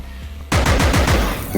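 A burst of rapid rifle gunfire from pink enemies in the video game Compound, starting abruptly after a quiet half second and rattling on as a fast series of close, loud shots.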